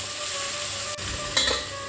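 Tomatoes with salt sauté in a pan for tomato dal, giving a steady close sizzle with one brief scrape or clink of a utensil partway through; no one speaks.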